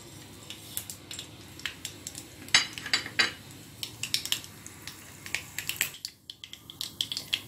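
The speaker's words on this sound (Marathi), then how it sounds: "मोहरी तडतडून झालेली आहे।" Mustard seeds splutter in hot oil, a busy stream of sharp little pops and crackles over a low background hiss.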